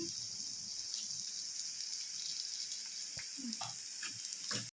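Oil sizzles steadily in a pan while pasta snacks fry for a village-style home recipe, a continuous bright crackling hiss with a few soft clinks, fairly quiet and close.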